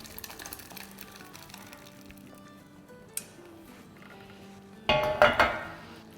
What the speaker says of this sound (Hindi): तो अब इसको अब हम अपने मसाले में डाल देते हैं।